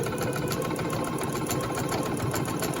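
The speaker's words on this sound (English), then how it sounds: "And we're going to sew" A sewing machine stitches the mitered corner of a table runner, a steady, close, rapid mechanical whirr and needle chatter running evenly throughout with no talk.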